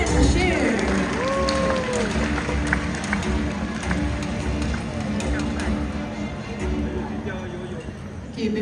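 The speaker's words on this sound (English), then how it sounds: "Now let's give a round of applause to Titan and Bashir." A zoo animal show audience in Singapore applauds two performing birds, scattered clapping and crowd murmur mixed with a presenter's voice and some whistle-like tones, moderately loud and fairly close.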